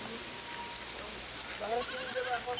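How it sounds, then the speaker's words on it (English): A big herd of goats streaming down a hiking trail in Nepal, with several overlapping bleats rising out of a busy background of hooves and rustle, fairly close and moderately loud. "we were caught right in the middle of a massive herd of goats just streaming down the trail"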